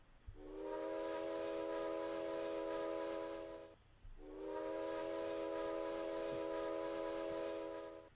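PRR T1 steam locomotive whistle in Trainz Simulator 3, two long, sustained chime blasts of nearly four seconds each with a brief gap between, loud and clear over a quiet low rumble.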